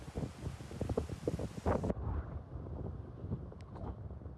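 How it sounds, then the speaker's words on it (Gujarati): Wind gusts outdoors on a farm field, buffeting the microphone with low rumbling bursts, loudest early on before easing to a softer, uneven blowing. "મસ્ત મજાનો પવન આવે છે હમણાં"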